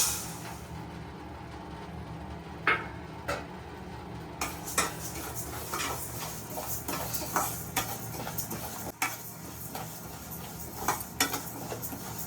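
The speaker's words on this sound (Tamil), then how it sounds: "இந்த பச்சை பருப்பை தான் இப்போ போட்டு வறுக்க போகிறோம்" Green gram dal dry roasting in a kadai, with steady scraping and clinking of a metal spoon against the pan and a soft rustle of grains, repeated stirring strokes close and fairly clear with no talk.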